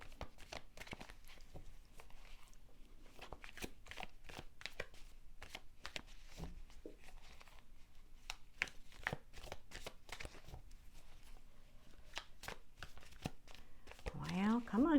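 Tarot cards are shuffled in a steady run of quick, crisp riffles and soft slaps, close and fairly quiet, lasting throughout with a brief pause near the end.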